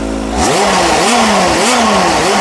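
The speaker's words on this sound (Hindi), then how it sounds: "तो इसका एग्जॉस्ट नोट देखो, बिल्कुल बोन स्टॉक बाइक है, इसके अंदर कोई एग्जॉस्ट वगैरह नहीं लगाया हुआ है।" A Kawasaki H2 SX SE motorcycle with its stock exhaust revs up sharply from idle, then blips the throttle in a few rising and falling surges, loud and close.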